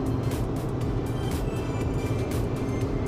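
A car drives along a rural valley road past ranches near Sandpoint, giving a steady, continuous rumble of engine and tyre noise with road hiss and no breaks.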